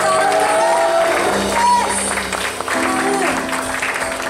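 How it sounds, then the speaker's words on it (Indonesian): A church congregation gives long, sustained applause, a steady wash of clapping mixed with shouts, whoops and cheering, with voices and some tonal sound in the room. "beri tepuk tangan yang panjang buat Allah"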